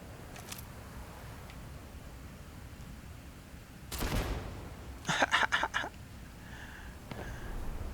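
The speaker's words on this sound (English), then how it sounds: "This is like a sniper pistol." Sniper pistol shots in the Starfield video game: a single sharp report, then a tight burst of several rapid cracks a second later and a faint shot trailing off, all against quiet background.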